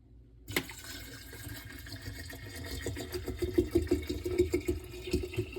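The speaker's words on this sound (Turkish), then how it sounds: "Dolayısıyla su olmadığı için su dolduruyorum." Water pours into the salt compartment of a new Arçelik dishwasher, a gurgling trickle that grows louder and more rhythmic as the reservoir fills.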